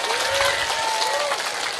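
Audience applause at an Islamic rebana performance, a dense, steady patter of many clapping hands at even loudness, with a faint tonal whistle or feedback line running through it.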